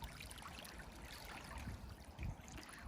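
Sea waves washing along a shore, heard as a faint, steady rush of water with a couple of slightly stronger surges toward the end.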